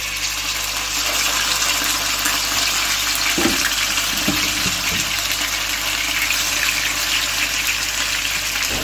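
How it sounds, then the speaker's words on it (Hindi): Pieces of fried chicken dropped into hot oil while cooking a restaurant-style chicken steam roast, giving a loud, steady hiss and sizzle that runs the whole time, with a few brief clatters partway through. "अब हम इसमें चिकन जो है वो डाल देते हैं फ्राई किया था"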